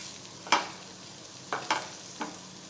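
Okra pieces mixed with masala in a pan: a few distinct spoon scrapes, one sharp stroke followed by a quick cluster of three, over a faint background sizzle.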